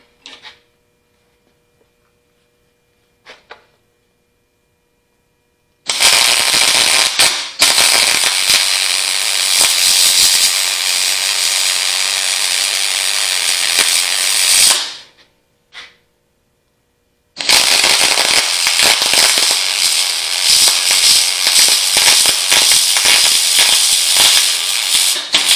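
Loud, continuous crackling and sputtering of arc welding around the spindle shaft of an Allis Chalmers WD45 tractor, in two long runs separated by a pause, with a few faint clicks before the first run.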